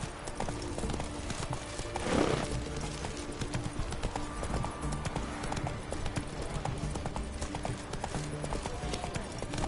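The horse Roach gallops in Witcher 3, hooves clip-clopping in a fast continuous rhythm throughout, loud and close, over a dense game soundscape.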